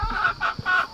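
Backyard chickens by a coop cluck in a quick run of three close, fairly loud calls, with no people talking.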